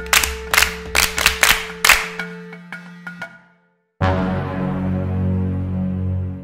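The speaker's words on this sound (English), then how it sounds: "Clap for yourselves." A handful of students clap in a classroom, sharp separate claps in quick bursts that thin out and stop, followed after a brief silence by a sustained tonal ringing sound.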